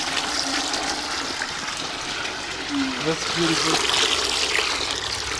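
Clean water pours and trickles steadily at a village water point in rural Kenya, a continuous splashing flow with people talking briefly over it.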